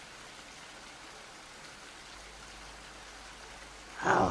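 Heavy rain pours in a steady, dense hiss that stays even throughout, with a louder, brighter burst of splashing at the very end.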